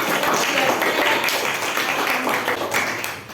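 Classmates clap together for a student named Niken during a classroom religious-education lesson, a dense, steady burst of applause that holds for about three seconds and then tapers slightly.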